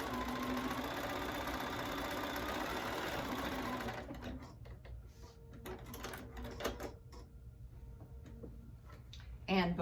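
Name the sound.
sewing machine back stitching a tote bag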